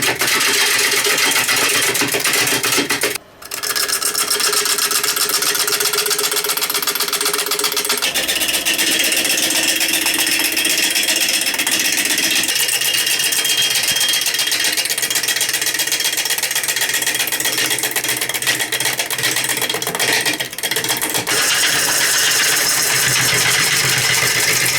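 A wood lathe turns a bowl while the tool works high spots, giving a steady, loud, continuous whirring drone with a brief dropout early on and no talking.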